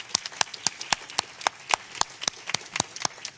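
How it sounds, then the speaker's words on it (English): Sparse, distinct handclaps from a small group at a mental health workforce panel, crisp and fairly close, ringing out in an uneven rhythm without building into full applause. "So maybe we could just give them a round of applause."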